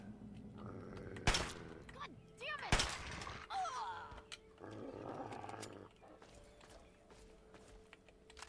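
Gunfire in Fallout 3, two sharp loud shots a little over a second apart amid game sounds, creature noises and a speaking voice, with a rumbling burst afterward.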